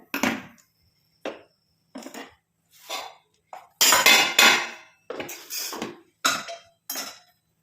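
Spoon or ladle stirring a mixture in a metal pan on a stove, giving a series of separate scraping, clinking strokes, fairly close and clear, with short pauses between them and no talk.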